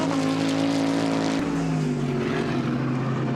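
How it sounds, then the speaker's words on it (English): A GT race car roars through the final corner at Misano, its engine note loud and close, then dropping in pitch as it passes by. "Laurens Vanthoor through the final corner lays to rest the demons of Misano 2015 with victory in the opening race of the 2016 Blancpain GT Series."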